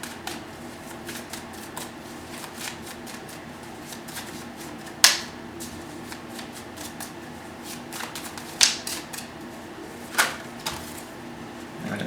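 A deck of tarot cards shuffled by hand, close and continuous, with soft repeated riffling and a few sharp louder snaps where cards flip or tap together, no voices present.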